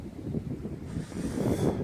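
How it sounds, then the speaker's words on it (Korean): Wind gusting outdoors at a rural house on Jeju Island, a steady broadband rush that swells toward the end, moderately loud with no voices. "날씨 오늘 바람이 불면서 그래도 시원하면서도 괜찮은데요"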